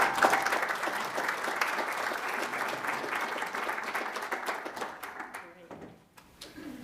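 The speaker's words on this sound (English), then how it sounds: "Give her a round of applause" An audience at a Carroll County Chamber of Commerce legislative event applauds Andrea Bursler, a steady round of clapping that fades out near the end as a voice begins.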